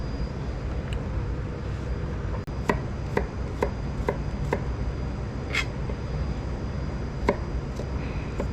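A knife chops through frozen horse mackerel on a cutting board, giving sharp, sparse clicks spaced roughly half a second apart over a steady low hum of background noise.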